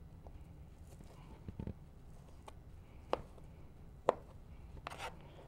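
Food is cut with a knife on a board in a home kitchen, giving a few scattered, crisp chops at an irregular pace, faint and close, with low background noise in between.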